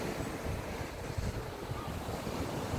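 Waves wash onto an Essex seafront beach in a steady, soft surf roar mixed with wind noise on the microphone, with no talk.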